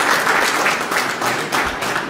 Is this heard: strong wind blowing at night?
no